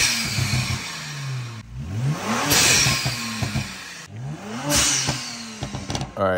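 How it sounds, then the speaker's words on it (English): A Kia Stinger's engine revs rise and fall twice, each followed by sharp hissing whooshes and pops from a blow-off valve, fairly loud and close. "blow off valves. I'll let you hear these."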